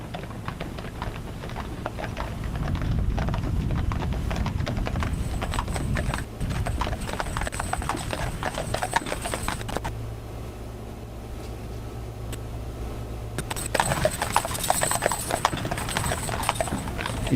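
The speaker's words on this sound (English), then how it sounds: "listen to the silence and the clanking of the horses" Hooves clop steadily on pavement, several horses walking in an even rhythm in a funeral procession for sheriff's deputies, fairly close, with a quiet outdoor hush around them.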